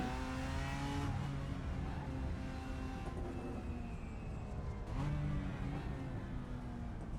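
In a racing video game, the engine of a BMW M4 GT4 race car drones loud and close, rising in pitch through the gears and dropping at each shift, with two clear shift breaks.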